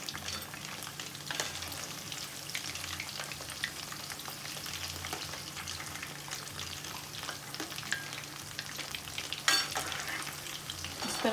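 Chicken pakoras frying in hot oil, a steady crackling sizzle with scattered pops and occasional soft scrapes as the pieces are turned.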